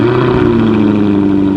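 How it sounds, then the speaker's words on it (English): A 2016 Jaguar F-Type R convertible engine runs with a steady, loud, close rumble and droning exhaust tone, holding even for the short stretch without audible voices. "he's going to start the vehicle, and we're going to show you the two exhaust modes"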